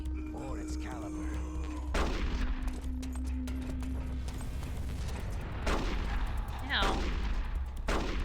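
Gunfire crackles in the video game Metal Gear Solid: The Twin Snakes, with several sharp bursts spaced a second or so apart over a low steady background hum, and a voice briefly cries out.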